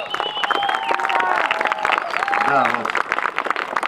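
A crowd applauds and cheers loudly and steadily at a Russian trade-union gathering, dense clapping running throughout while someone speaks briefly over it.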